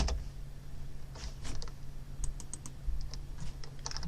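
Computer keyboard typing with scattered light clicks and taps while working in a database, close and moderately soft over a steady low hum, no talking.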